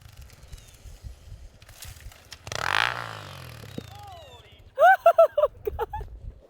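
A Honda CRF250F dirt bike, ridden in winter, gives a sudden sharp burst of throttle, a rough rising roar midway. Then comes a quick run of loud, clipped revs, close by, over low idle rumble.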